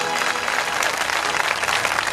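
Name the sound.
audience applauding devotees from Tatina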